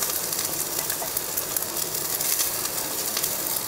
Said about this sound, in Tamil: தேங்காய் போட்டு ஒரு 2 நிமிஷத்துக்கு வறுத்தா போதும்